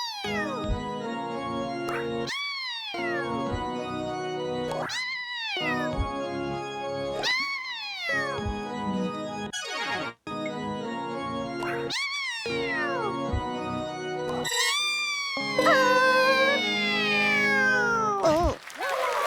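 A children's-show cat organ plays a melody of sung meow notes, each a rising-and-falling yowl repeated roughly every two and a half seconds, closing with a faster, busier run of meows, loud and close.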